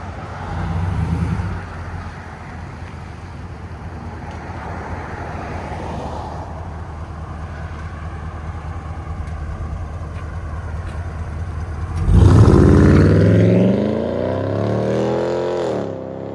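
A 2022 Jeep Wagoneer with a 5.7L HEMI V8, true dual 2.5-inch exhaust and Valvetronic mufflers, valves closed, rumbles at a steady low drone, then revs hard as it drives off, rising and fading.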